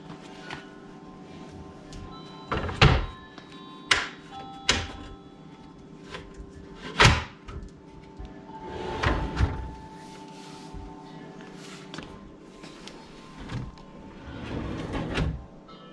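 Several wooden knocks and thuds of kitchen cabinet drawers being fitted and slid shut, spaced irregularly, with softer rattles and scraping between them, close by in a quiet room.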